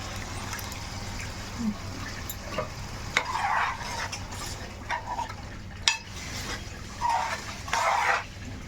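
Tamarind juice poured into a cooking pan for a fish curry, with a steady sizzle and stirring clatter, intermittent bursts of hissing as liquid hits hot metal, and occasional utensil knocks.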